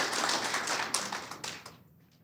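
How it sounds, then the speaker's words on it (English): Applause from an audience at a resident assembly, a short burst of close, loud clapping that thins out and fades to quiet within about two seconds. "Can you give them a round of applause?"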